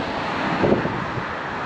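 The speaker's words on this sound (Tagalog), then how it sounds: "So mahangin kasi." Wind buffets a microphone during a gravel bike ride, a loud, steady broadband roar with a brief gust swelling near the middle.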